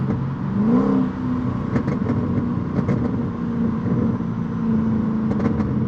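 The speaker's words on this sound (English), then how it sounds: "With the windows closed, you can hear sort of little burbles and rumbles around." Straight-piped Mercedes C55 AMG with Kleemann headers and valved mufflers burbles and rumbles steadily from inside the closed cabin on a downshift, a loud low drone with a brief rising rev near the start and small crackles scattered through.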